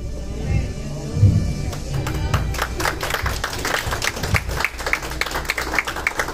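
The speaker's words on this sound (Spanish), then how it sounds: "Denle un fuerte aplauso al Señor." A church congregation at a graduation service breaks into applause, a dense rhythmic clapping that builds and continues throughout, with some voices mixed in.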